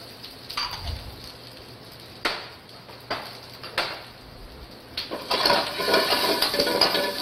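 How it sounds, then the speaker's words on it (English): Cabbage, ginger and lily buds stir-fried for moo shu pork, with a few sharp clatters of a utensil against the pan, then a steady sizzle that swells near the end. "I do a little stir fry."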